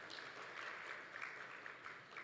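Steady applause from a conference audience at a family business event, a dense continuous patter of many hands held at an even level for its whole length, with no talk over it.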